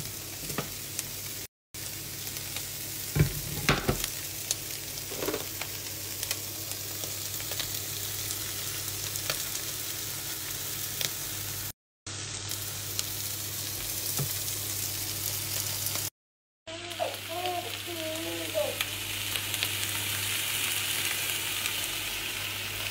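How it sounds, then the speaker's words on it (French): Seasoned meat sizzles in butter in a frying pan with a steady crackle and a few utensil knocks. The sound is close and even, with short silent gaps and no talking. "Et je vais venir mettre ma viande."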